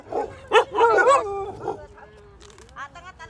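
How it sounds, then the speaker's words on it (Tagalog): A dog yips and whimpers in a few short bursts, with higher whiny calls trailing off near the end. "Ang aming mga aso ay dyan lang."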